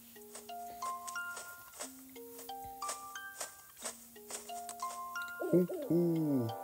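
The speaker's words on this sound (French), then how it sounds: "Oh, notre ami le hibou." Owl hooting in the video game The Legend of Zelda: Link's Awakening, a series of soft, sustained game-music hoot tones stepping through a melody, ending in a louder warbling flourish, heard alone without talk.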